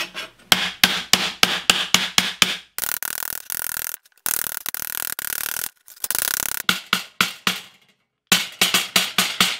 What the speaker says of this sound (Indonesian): Saya diketok dengan palu seperti ini